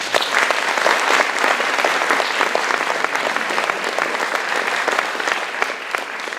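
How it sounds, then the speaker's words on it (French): An audience at a concert applauds, dense steady clapping from a crowd in a hall, loud and continuous throughout. "je vous prie d'applaudir bien fort l'Association culturelle russe de Strasbourg"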